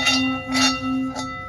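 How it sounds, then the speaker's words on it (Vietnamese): A Nepalese bronze bell weighing about 1.2 kg is struck three times in quick succession, each hit a bright clang over a steady ringing hum that sustains between strikes. "đây là một cái chuông đồng Nepal, gõ rất là vang"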